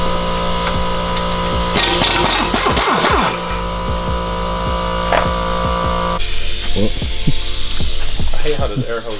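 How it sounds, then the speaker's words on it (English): An air hose hisses in a garage during work on a 1400hp Viper, with a steady broadband rush swelling for several seconds in the middle over background shop noise and clanks. "I hate how this air hose makes noise."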